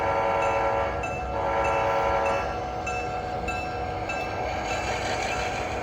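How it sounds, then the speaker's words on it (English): An HO scale GP9 model locomotive with onboard sound runs on a model railroad, giving out a steady diesel engine drone with horn blasts and faint rail clicking. It plays alone and close, without voices. "Here we have Scott's super detailed GP9, which Brian worked on over the last few weeks"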